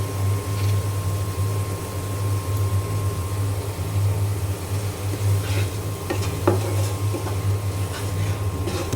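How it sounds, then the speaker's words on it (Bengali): Spices being stirred and fried in a pan with chili powder and salt, a steady low sizzle under scattered scraping stirs, close and continuous with no talk. "মশলা আমি কষিয়ে নেব।"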